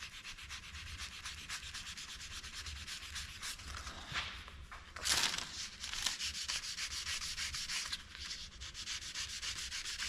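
Sandpaper rubs steadily over a small airbrushed flying eyeball piece in a cool workshop, a close, continuous scratchy sanding with rhythmic strokes and a brief louder burst midway.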